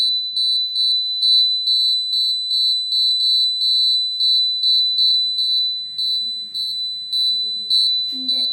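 A homemade earthquake detector's alarm beeps in a rapid repeating series of shrill electronic tones, steady and close, with faint background noise near the end.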